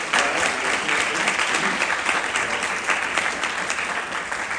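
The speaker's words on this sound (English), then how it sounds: "Let's give a big round of applause" An audience at an evening entrepreneurship event breaks into sustained applause, dense and loud clapping filling the room without a break for several seconds.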